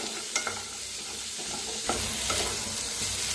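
Garlic and boiled eggs stirred in a hot pan, first dry-roasted before oil is added, give a steady low sizzle broken by a few scraping strokes of the spoon.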